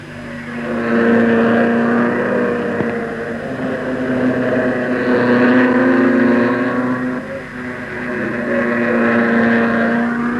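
Pre-war vintage racing cars roar past at a July Silverstone race meeting, their engines droning loudly and steadily with swelling and fading passes at a distance.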